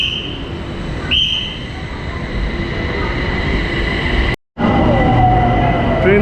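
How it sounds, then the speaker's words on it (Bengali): A BTS Skytrain pulls into a Bangkok elevated station, a steady loud rumble of rail noise with a brief squeal of wheels, a short dropout, then continued train sound as it arrives. "ট্রেন চলে আসলো আমাদের"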